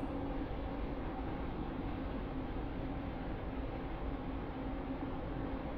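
A train rolls into Stepford Victoria in the Roblox rail game SCR, giving a steady, loud rumble of wheels and carriage noise that holds evenly throughout without any clear change.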